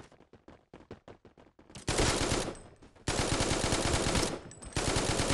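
Gunfire in the shooting game Forward Assault: a quick series of separate shots, then two long, loud bursts of rapid automatic fire with a brief pause between them, and no talk.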